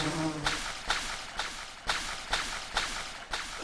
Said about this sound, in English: The fly buzzing sounds are freaky too.